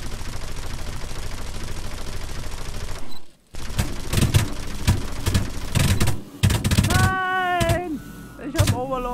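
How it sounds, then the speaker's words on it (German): Rapid bursts of gunfire and machine-gun fire in the War Thunder video game, loud and repeated over several seconds with a brief drop in the middle, while someone talks in German over the battle. "Da schießt doch was. Der schießt ein eigener auf mich."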